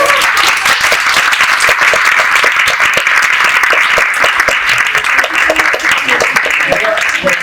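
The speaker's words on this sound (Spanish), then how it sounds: "démosle un aplauso a Emilia" Audience applause for Emilia Duclos after her presentation: dense, steady clapping from a crowd, loud and sustained throughout without a break.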